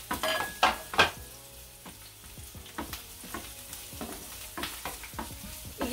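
Onion being sautéed in a pan, a steady close sizzle broken by several sharp clatters of a utensil stirring and scraping against the pan, with no talking.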